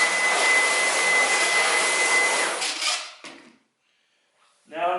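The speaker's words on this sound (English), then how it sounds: "Now I've got it on the boost mode. Even on auto, you can't have a conversation with this in the background." Dyson V11 cordless vacuum roaring steadily in boost mode, a loud high-pitched whine with airy rush for about three seconds before it winds down and cuts off, followed by a short clatter.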